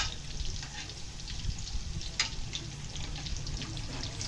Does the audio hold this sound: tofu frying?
yes